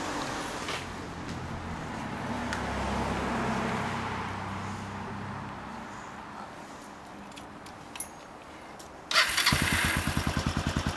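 Kawasaki Estrella 250 motorcycle engine running, a low loping thump under ambient noise that swells and fades as the bike moves, then a louder close rhythmic idle pulse near the end.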